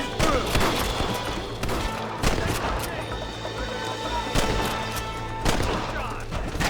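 Scattered loud gunshots crack out every second or two in a Wild West shootout in the video game Red Dead Redemption, some close and sharp, with voices talking between and over the shots.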